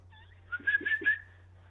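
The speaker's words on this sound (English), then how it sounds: "You just started whistling." A person whistles a short tune of a few quick, clear notes, a high steady tone rising and falling over a low background hum with no talking.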